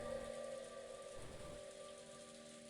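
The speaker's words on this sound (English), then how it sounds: "It's rain, it's flowing out of my monitor." Soft, continuous rain plays from a computer monitor during a stream of the visual novel Umineko When They Cry, a faint even hiss with a low tonal hum underneath.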